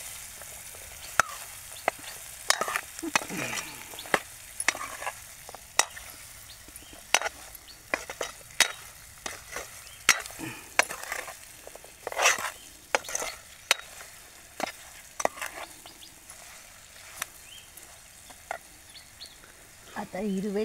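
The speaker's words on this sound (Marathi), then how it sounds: "चांगलं ढवळून घ्यायचं." A spoon stirs food in a cooking pan, giving repeated scraping and clinking strokes over a soft sizzle, close and fairly quiet, with occasional faint voices in the background.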